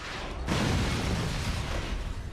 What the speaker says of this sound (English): When you hear an explosion, that might be a layer of fire, of glass, of metal, and that is what actually makes up one sound.